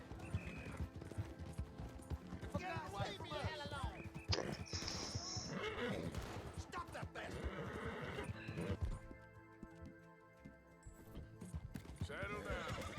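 Horse in the video game Red Dead Redemption 2 neighing and whinnying while its hooves clip-clop, amid busy game sounds and a voice talking.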